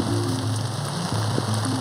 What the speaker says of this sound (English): During the wet season, the rains move in with a force and speed it's hard to imagine